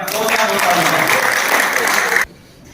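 An audience bursts into loud, dense applause at a local political event for newly elected council members, sustained clapping close and full that stops sharply near the end, leaving a quiet room.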